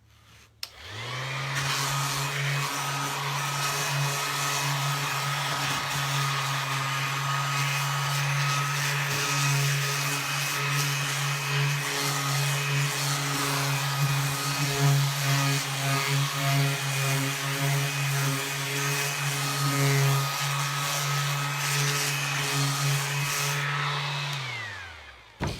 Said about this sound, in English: I'm gonna sand it just because I have to.